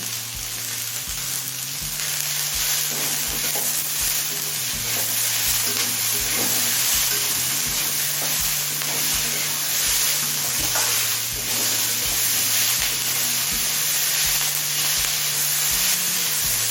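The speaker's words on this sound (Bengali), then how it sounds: "মটরশুটি আর ক্যাপসিকাম দিয়ে আরও তিন চার মিনিট ভেজে নিলাম" Peas and capsicum stir-frying in a pan for mixed chow mein, a loud steady sizzle with scraping stirs and a low rhythmic clatter, close and continuous, no talking.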